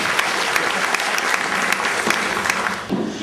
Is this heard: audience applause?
yes